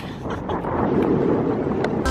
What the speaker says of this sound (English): it's very windy, so you're probably not even going to get to hear this